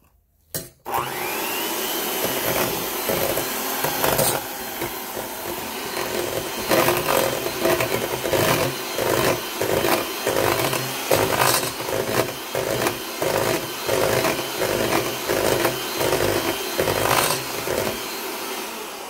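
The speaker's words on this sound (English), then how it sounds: "I'm going to take this to the sink here, and I'm going to mix it up." Almond flour and coconut flour keto pancake batter being mixed at a sink with a loud, close electric motor whirring continuously for about eighteen seconds, pulsing rhythmically as the batter churns.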